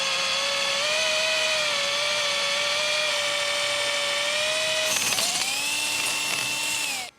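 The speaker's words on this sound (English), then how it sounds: "Now I'm going to take the timber off and drill them for real." Power drill boring holes in maple timber slats, a steady high whine that holds for several seconds, dips briefly with a rattling bite, then settles into a slightly lower whine before cutting off.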